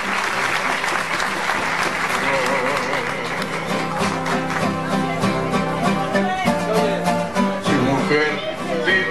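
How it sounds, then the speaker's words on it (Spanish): An audience at a farewell tribute to Pedro Infante applauds loudly, a dense continuous clatter of many hands with cheering voices and music mixed in. "fuertes aplausos con el speech"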